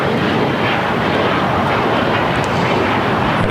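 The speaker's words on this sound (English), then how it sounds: "It is an A350, makes its way to 25 right" An Airbus A350 airliner rolls toward runway 25 right at LAX, a loud, steady broadband jet roar with no pauses or talk.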